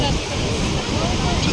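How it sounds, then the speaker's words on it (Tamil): Strong, steady wind buffets the microphone beside Niagara Falls, roaring continuously with no letup across the short stretch, with the falls' wash blended into the rumble. "இந்த தடவை காற்று அடிச்சுட்டே இருக்கு. ரொம்ப காற்று."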